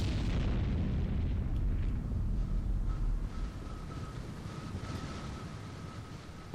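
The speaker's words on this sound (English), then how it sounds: "That last explosion really started to drag it down." A ship explosion in the submarine game Silent Hunter III at sea: a heavy, sustained rumbling boom with roaring low-end wash that eases slightly midway, a faint tonal whine appearing later, loud and continuous with no talking.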